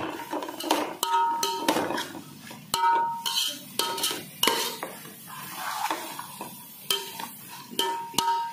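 Ingredients frying in a pan, stirred with a metal spoon that knocks and scrapes against the pan in repeated sharp clanks every second or so, a soft sizzle underneath, close by and with no talking.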